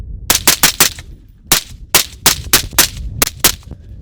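A suppressed rifle fires a rapid string of about a dozen gunshots at a cold outdoor range, coming in quick clusters of sharp cracks close to the listener, with no talking between them.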